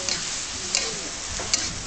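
Minced pork sizzles steadily in a frying pan while a utensil stirs and scrapes, with a couple of sharp ticks of metal on the pan, close and continuous.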